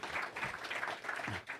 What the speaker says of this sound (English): Give us a round of applause, you lot.